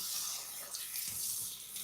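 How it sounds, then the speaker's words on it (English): Tap water runs steadily into a kitchen sink over chopped greens being washed, a close, continuous hiss and splash with slight shifts as the leaves are moved. "Now, run the water over it again, let them soak, and then going to let them drain"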